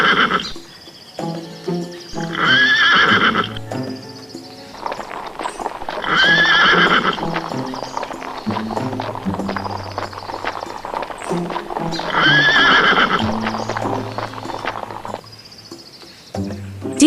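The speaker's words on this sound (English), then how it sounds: "Horse." A horse neighs loudly three times at regular intervals while hooves clip-clop steadily underneath, close and clear.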